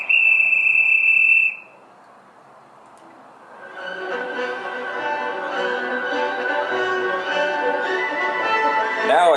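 A Roku 4 remote finder sound: a sustained tonal whistle cuts off, then after a pause a warbling, sustained melodic whistle tune plays from the remote's speaker, ending in a rising swoop.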